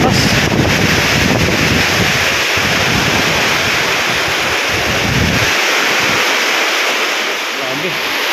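Typhoon Tino lashing a rural area with strong wind and rain, a dense, loud, continuous rushing roar that buffets the microphone, easing slightly near the end.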